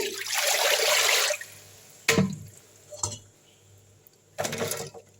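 Water sloshes and pours for about a second, followed by several short splashes and drips as dried anchovies are rinsed in a bowl.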